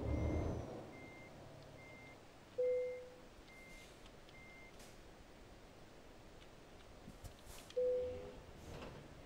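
Truck in Euro Truck Simulator 2 reversing, a faint steady series of evenly spaced reversing beeps, with two short sharp air-brake hisses a few seconds apart.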